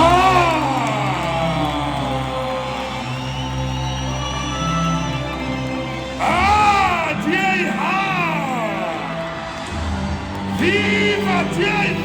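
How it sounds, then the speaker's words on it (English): Crowd at a Democratic Alliance political rally in 2024, loud cheering, whooping and rhythmic chanting voices over a steady background hum, with swells of shouting at intervals. "Let's give them a round of applause as this team joins us"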